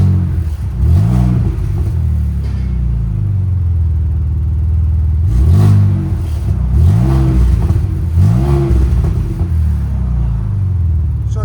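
Ford Raptor EcoBoost exhaust with valves closed, revving in several short bursts over a steady idle rumble; the tone is clean and fairly subdued, close by, with no talking.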